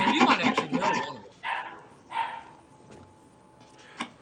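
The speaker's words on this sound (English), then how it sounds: "Is it that fucking yapping ass dog in the background?" A small dog barks in quick yapping bursts at the start, then gives a few shorter, sparser yips in the background, fairly close and moderately loud, with no talking.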